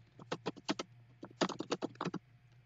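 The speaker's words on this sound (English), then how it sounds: "I'm typing something." Fingers tap a computer keyboard in two quick bursts of keystrokes separated by a short pause, close and fairly quiet against a low steady hum.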